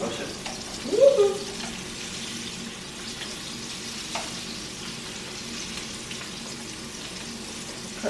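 Fish frying in a pan gives a soft, steady sizzle, fairly faint and continuous, with a brief voice near the start and a few small clinks.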